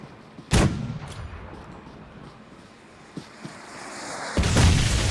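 Explosions in the mobile shooter PUBG Mobile: a sharp, heavy blast opens, followed by a couple of smaller distant pops and a second loud, booming detonation near the end over a low rumbling background.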